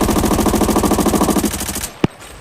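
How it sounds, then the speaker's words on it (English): An M4 rifle in Arena Breakout fires a loud, rapid automatic burst at a training dummy for about two seconds, then stops, with one sharp click or clack after the burst. "So I'm gonna position myself right over here and shoot this dummy."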